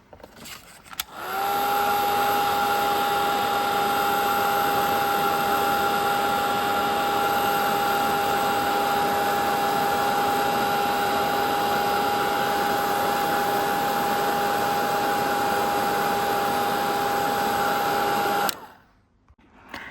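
A heat tool runs steadily for about seventeen seconds, drying stamped blended ink on a greeting card, with a loud, even whir and tonal whine that then cuts off.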